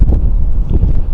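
Wind buffeting the microphone outdoors at a poplar plantation worksite, a loud, close, continuous low rumble with uneven gusting throughout, no talk over it.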